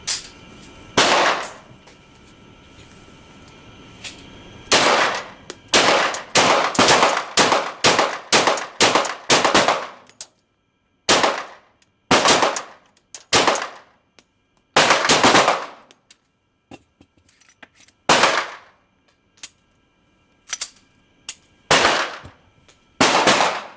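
Beretta APX pistol fired at a shooting range: loud, sharp single shots, some in quick runs of several and others spaced apart, each ringing briefly before the next, with no talking.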